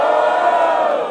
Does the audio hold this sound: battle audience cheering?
yes